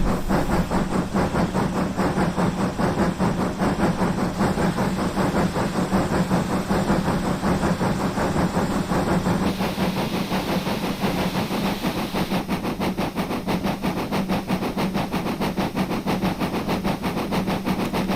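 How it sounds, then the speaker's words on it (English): BR Standard steam locomotive 78022 in BR green working hard on the Keighley and Worth Valley Railway, its loud, rapid exhaust beats pounding steadily and close by for the whole stretch. "does make a good sound, this engine, doesn't it?"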